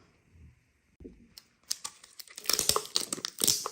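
Danone Süprix Disney Princess surprise packages crinkle and rustle as they are torn open, starting with a few soft handling sounds and then building into dense, close, continuous crackling wrapper noise.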